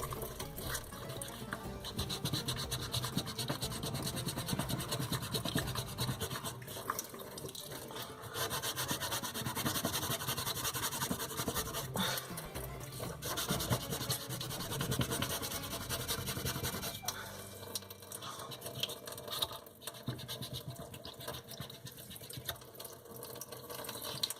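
Steady, continuous scraping and rubbing as a circuit board is sanded by hand, a close abrasive sound that keeps an even rhythm throughout and eases off slightly near the end.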